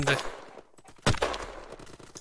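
Gunfire in the online egg-shooter game Shell Shockers, with sharp shots popping out amid ongoing talk from a player, one loud burst standing out near the middle.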